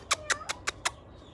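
Cats on a farm give five short, quick meows in an even rhythm, fairly close, over a quiet outdoor background.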